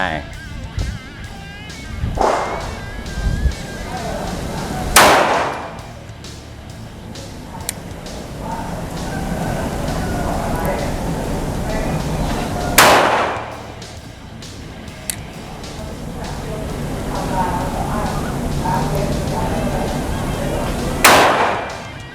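A Taurus G2S 9mm pistol fired at a target at about ten yards, four sharp, loud shots spaced several seconds apart, with someone talking between them.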